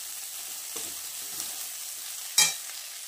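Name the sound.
stirring potato curry in a pan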